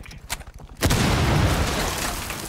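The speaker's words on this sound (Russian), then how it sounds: "Я подорву." A breach charge detonates in Rainbow Six Siege after a short stretch of quiet in-game sounds, a sudden loud boom that rolls into a sustained rumbling roar of debris and crumbling walls lasting to the end.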